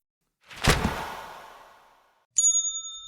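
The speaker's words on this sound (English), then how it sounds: "I hit this disclaimer bell that I just invented" A small bell is struck twice: first a sharp ding that fades over more than a second, then after a short silence a second strike that rings with a clear, sustained metallic tone.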